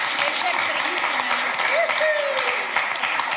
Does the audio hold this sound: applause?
yes